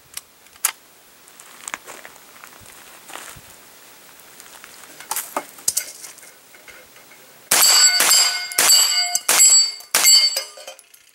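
Bullets strike the steel plates of a spinning Texas Star target, giving sharp ringing clangs that start sparse and faint, then come as a loud rapid burst of overlapping metallic hits near the end.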